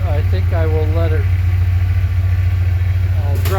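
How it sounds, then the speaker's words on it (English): A Ford F150 V8 engine that has sat unused for a long time idles with a deep, steady rumble close by, while someone talks over it. "The engine has been sitting for a long time, so I'm not going to worry about that at the moment, but it is running on 8 cylinders."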